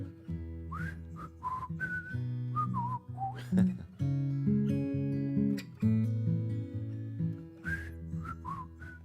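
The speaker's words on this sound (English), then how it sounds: "So I whistle" A person whistling a cowboy-style tune at a dusk busking performance, clear melodic phrases carried over a strummed accompaniment, close and prominent with no talk.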